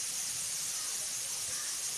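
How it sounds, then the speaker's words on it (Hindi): A pressure cooker cooking dal lets out a steady, loud steam hiss, a continuous airy whistle with no break in it. "आपको सीटी की आवाज़ आ रही होगी, जैसा आप जानते हैं दाल कुकर में चढ़ी हुई है"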